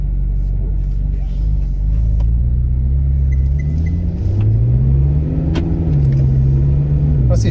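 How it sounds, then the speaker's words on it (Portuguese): A Ferrari V8 engine idles and revs with a steady deep rumble that rises and falls in pitch, close and loud throughout. "Dar vida aqui a estes 8 cilindros."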